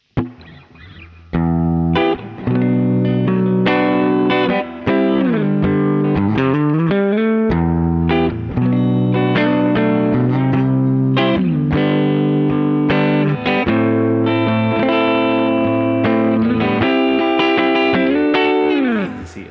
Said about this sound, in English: I'm going to turn on the compressor now.